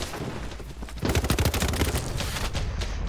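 Rapid gunfire and blasts from the shooter video game BattleBit, with an RPG fired among them. The shots are dense and loud, with an overlapping burst starting about a second in and carrying on to the end.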